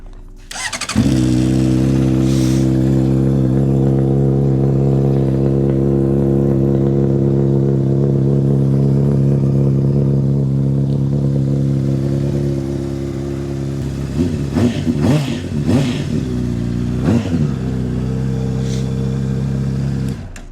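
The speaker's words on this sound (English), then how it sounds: "So as you can see, the bike starts up good, sounds good." A Honda CBR600RR sport bike cranks and fires up, then settles into a steady, close, loud idle for many seconds, with a few throttle blips near the end.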